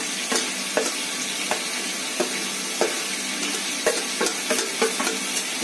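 Chicken korma ingredients, coconut powder, makhana and fried onion, are stirred and fried in a kadhai, giving a steady close sizzle broken by repeated scraping stirs at an irregular rhythm.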